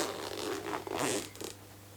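A zipper on a fabric bag is pulled open in a few quick ripping strokes, close and fairly quiet, with no talking.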